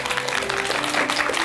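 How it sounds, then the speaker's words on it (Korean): Steady clapping from a studio audience welcoming a speaker on stage, a dense continuous patter of many hands, fairly close and even in loudness. "큰 박수 부탁드립니다."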